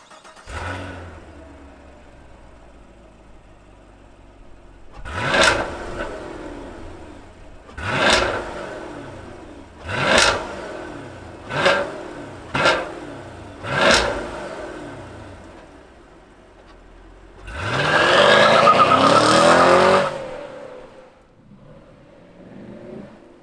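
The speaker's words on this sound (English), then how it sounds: "Let's fire up this V8 and get a little bit of an eargasm." A 2021 Chevrolet Camaro SS V8, a Shock & Steel Edition coupe, revs in six sharp, loud throttle blips spaced about two seconds apart, followed by a longer sustained rev that drops back to a low idle.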